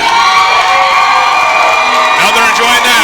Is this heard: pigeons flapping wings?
no